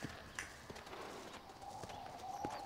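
Horse hooves clip-clop in Red Dead Redemption, a steady run of soft, fairly faint thuds over a low ambient bed, with a sharper knock near the end.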